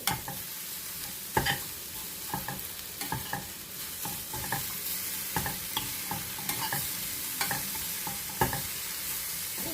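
Tender tamarind leaves fry in a pan with a continuous close crackling sizzle, punctuated by irregular scraping knocks from stirring, with no one talking.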